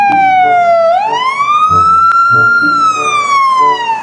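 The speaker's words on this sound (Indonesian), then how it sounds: "mobil ambulan" A toy ambulance siren wails loudly and close, a steady electronic tone gliding down then sweeping up and slowly falling again, with faint clicks and background sounds beneath it.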